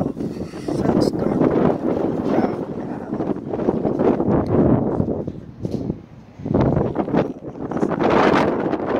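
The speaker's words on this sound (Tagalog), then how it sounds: "Lakas ng hangin." Strong gusting wind of a sandstorm in Kuwait roars and buffets the microphone in waves, briefly dipping before surging again, with no clear speech.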